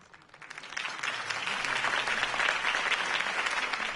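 A crowd at a campaign speech in a Batman video game breaks into applause that swells from quiet to a steady, fairly distant wash of clapping and holds there.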